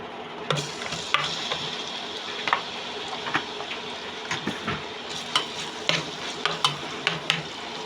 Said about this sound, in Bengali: হালকা একটু তেল দিয়ে আমি বেরেস্তা করে নেব পেঁয়াজ দিয়ে